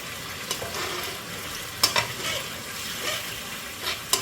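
Chicken fries in orange sauce in a pan while being stirred: a steady, soft sizzle runs throughout, broken by a few sharper scrapes and knocks of the utensil.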